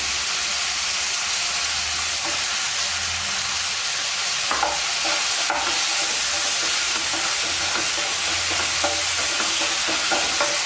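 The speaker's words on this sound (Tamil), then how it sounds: "வெங்காயம் தக்காளி சீக்கிரம் வதங்கிடும்" Onions and tomatoes fry in a pan for Chettinad prawn curry with a loud, steady sizzle and hiss, broken by occasional scrapes and knocks from a stirring spoon.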